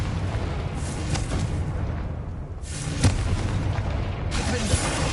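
Confringo fire spells explode in Hogwarts Legacy, a heavy rumbling boom rolling under continuous game ambience with a couple of sharper bursts, fairly loud throughout.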